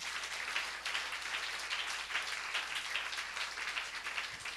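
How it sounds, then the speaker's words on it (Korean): A church congregation at a Friday night prayer service claps together in a fairly soft, continuous patter of many hands, with no voices rising above it. "우리 박수로 하나님께 영광 드리겠습니다."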